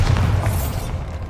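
A Bombarda blasting spell explodes in Hogwarts Legacy, heard as a loud, low booming burst with a rumbling tail that fades over about a second.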